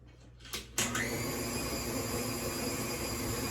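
An electric mixer whirs through strawberry cupcake batter in a home kitchen, starting after a couple of brief knocks and then running as a steady, loud, high-pitched drone with no talking.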